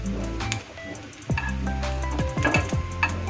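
Dry red chillies and four cloves of garlic hit hot oil for a tempering, Punjabi dhaba-style chicken gravy base, giving loud close sizzling and spattering with clattering bursts as the spices go in.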